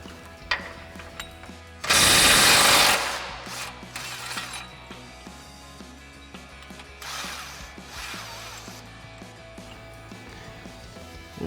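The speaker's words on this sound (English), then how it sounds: "we'll take our 19mm socket on our impact and go ahead and run these off" Impact wrench fitted with a 19mm socket runs off Toyota Tundra suspension mounting bolts during a lift kit install; one loud hammering burst stands out, followed by quieter mechanical clatter and tool handling, with no talk.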